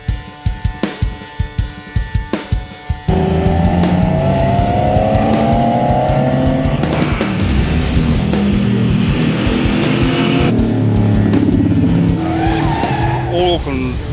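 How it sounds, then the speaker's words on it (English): Race cars at grassroots circuit racing at Pukekohe Park Raceway, an Auckland Car Club summer series, with a few sharp bursts at first, then loud close engines revving and tires squealing in a long sustained pass, and a voice talking partway through. "we're headed for Pukekohe Park Raceway for Grassroots circuit racing with Auckland Car Club's Summer"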